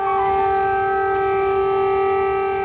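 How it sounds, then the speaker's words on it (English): A loud, sustained air raid siren wail with strong steady tones over a rumbling background, continuous for the whole stretch. "An air raid siren warns of a possible attack."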